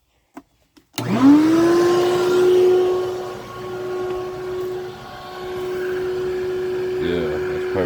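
A wood router spins up after a couple of clicks, rising into a steady high whine blended with the roar of a shop vacuum hooked up for dust collection, loud and continuous with a brief change near the end.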